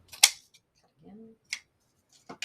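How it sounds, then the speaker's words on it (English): Scissors snip through ribbon for a Valentine's Day wreath, a few crisp close cuts spaced apart, with a brief murmur of speech between them. "Take the scissors"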